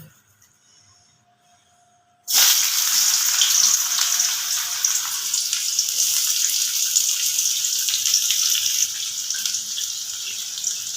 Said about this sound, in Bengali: এবার এর মধ্যে আমি দিয়ে দেব কিছুটা পেঁয়াজ কুচি